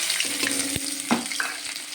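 Chopped onion sizzles in hot oil in a kadai with panch phoron and bay leaf, a steady close frying hiss broken by a few sharp clinks and scrapes of a stirring spoon.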